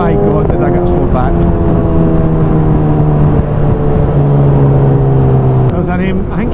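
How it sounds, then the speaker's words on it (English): A Nissan GT-R's engine drones loudly and close for several seconds, its steady pitch rising slightly near the end, heard from a motorcycle riding alongside, with wind noise and faint voice-like sounds at the start and finish. "You can hear the GTR"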